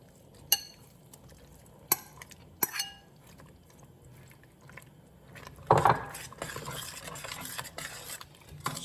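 A utensil stirring shrimp étouffée with Cajun seasoning in a pan: a few sharp metallic clinks, then a scraping, gently sizzling stir, close and clear with no talk.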